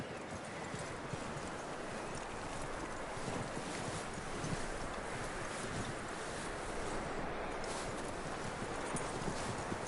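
Steady clip-clopping of horse hooves runs throughout, mixed with a broad windy rush, fairly even in loudness with no speech, in a video game.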